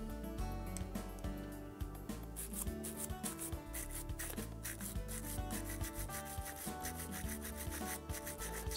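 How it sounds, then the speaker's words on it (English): A brush scrubs debris off a shotgun's forcing cone in steady, quiet back-and-forth rubbing strokes, with faint tonal background sound underneath. "Scrub down the forcing cone. Loosen up the debris."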